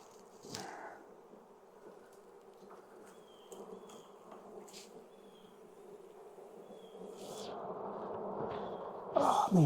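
Honey bees buzz steadily around an open hive during a fall inspection, a dense low drone with occasional louder passes of individual bees close by and some handling clatter near the end.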